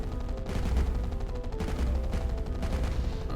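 Rapid gunfire from the sci-fi shooter Empire - Galaxy Burning rattles steadily and loudly throughout, a dense continuous stream of shots over a low rumbling game backdrop.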